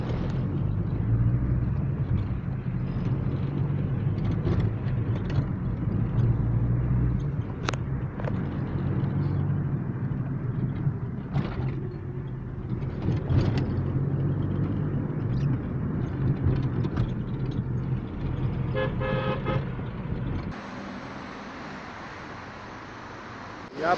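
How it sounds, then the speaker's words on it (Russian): Ride inside a taxi in China. A steady low engine and road rumble runs for about twenty seconds under faint cabin noise with occasional soft bumps, then drops to a quieter hum near the end. "Сейчас я взял такси и еду на собеседование"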